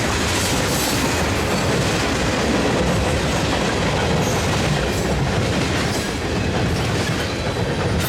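A CN freight train made up mostly of tank cars rolls past at the Carew diamond in Woodstock, with a continuous loud rumble and rhythmic clickety-clack of wheels over the rails and joints, steady throughout.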